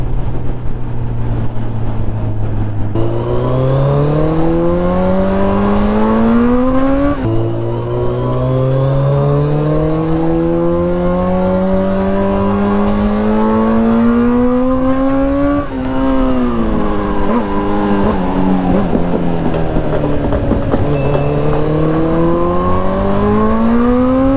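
A loud Kawasaki Z900 sport motorcycle engine revs hard and repeatedly at Chirala Beach, pitch climbing through the gears with brief drops between, close and continuous with no talking.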